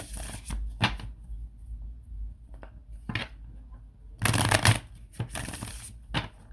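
A Thoth tarot deck is shuffled by hand in several sharp riffling bursts, close and crisp, separated by short pauses with light card taps in between.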